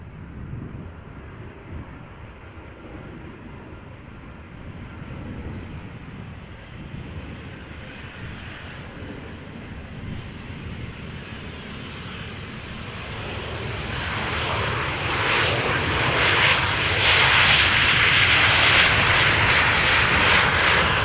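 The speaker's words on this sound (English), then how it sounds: "There's the Finnair A330-300 going back to Helsinki." A Finnair Airbus A330-300 airliner passes over near Amsterdam Schiphol Airport, its engine roar starting distant and steady, then building to a loud, bright rush as it comes overhead.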